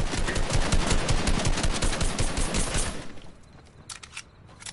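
Rapid automatic gunfire in a video game, a loud close stream of shots firing steadily for about three seconds, then stopping, leaving a few faint sparse pops afterward.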